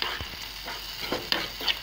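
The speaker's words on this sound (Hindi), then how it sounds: "तो हमने पीस डाल दिए, मिक्स कर देंगे।" Spices and boiled peas being stirred in a pan with a spoon, giving a few scraping strokes over a steady low sizzle, close and clear, with no voices.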